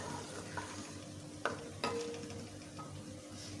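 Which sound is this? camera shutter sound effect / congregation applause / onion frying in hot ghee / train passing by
onion frying in hot ghee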